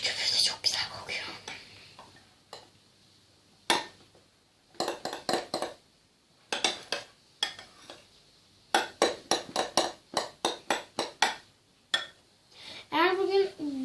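Slime ingredients being stirred with shaving foam in a bowl, heard as bursts of soft, wet squelching and scraping strokes in uneven clusters, fairly close and moderately loud, with quiet gaps between rounds of mixing.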